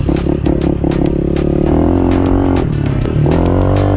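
Yamaha YZ450F dirt bike engine riding laps, loud revving with repeated throttle blips and gear shifts, the pitch rising and dropping in quick surges, close and alone.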